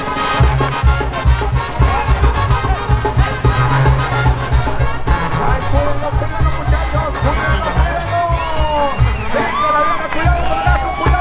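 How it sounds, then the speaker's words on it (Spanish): Spectators at a rural bull-riding arena shout, whoop and applaud in a dense, sustained roar, with voices rising and falling over a low rumbling background. "¡Y el grito y el aplauso del público!"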